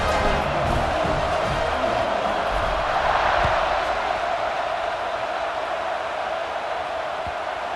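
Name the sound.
stadium crowd cheering in video game EA Sports College Football 26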